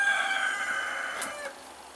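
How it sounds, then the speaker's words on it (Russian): A rooster crows on a rural homestead, one drawn-out cock-a-doodle-doo that is clear and moderately close, with no talk over it. "Он встречает нас уже петух с вами, своим кукуреку."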